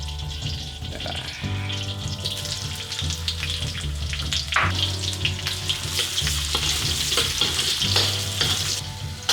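Onion sizzling and frying loudly in a hot pan for goat kaldereta, a steady crackling hiss with occasional stirring scrapes throughout, no talking.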